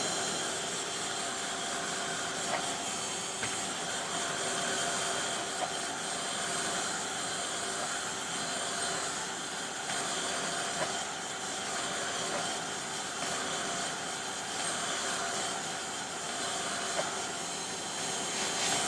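Heat tool blowing a steady, even whoosh as it quick-dries a layer of encaustic art, a constant airy drone running unbroken and moderately loud with no voices.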